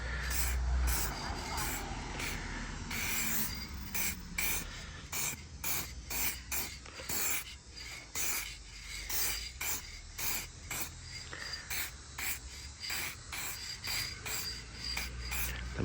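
A spray can mists clear coat onto a car headlight in rapid, rhythmic bursts of close hissing, repeated many times with short pauses between passes.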